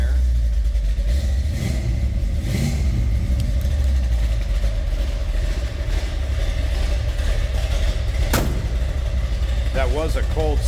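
A 1968 Ford XL Fastback engine rumbles steadily just after a cold start, a loud constant low drone with light rev changes and a person talking near the end.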